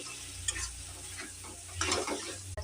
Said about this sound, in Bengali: এভাবে মশলাটা কষাবো।